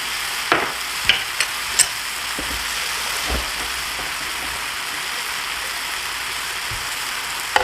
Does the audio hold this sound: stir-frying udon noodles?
yes